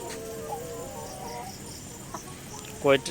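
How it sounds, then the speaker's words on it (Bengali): Egg-laying layer hens cluck in a tiered poultry farm, a low chorus of scattered clucks with one louder nearby squawk at the end, under a soft background hum. "আর সবই লেয়ার, এগুলো হলো ডিমের মুরগি"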